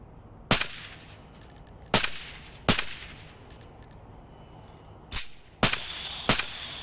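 Gunshots fire in the Onward video game at a shooting range, six sharp loud reports spaced irregularly, a spread-out group of three followed by a quick cluster of three, each trailing a short ringing echo with no talk.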